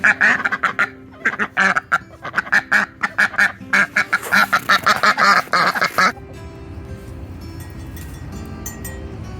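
A female duck on a small farm quacks in a rapid, repeated run of loud nearby calls for about six seconds, then quiet outdoor background remains.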